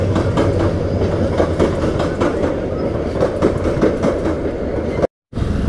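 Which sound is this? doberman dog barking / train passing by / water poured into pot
train passing by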